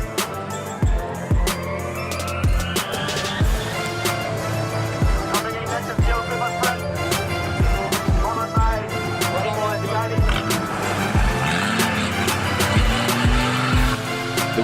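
An ATC three-wheeler cruises through a 4x4 park challenge stage at Kipeto, its engine droning steadily up close with repeated thumps and knocks from the rough track throughout.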